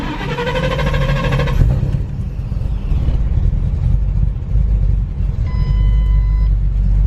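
A Shelby GT500 engine cranks and restarts while faulty and stuck in failsafe mode, a loud low rumble under a whirring start that settles into a rough idle, with a short electronic chime ringing near the end.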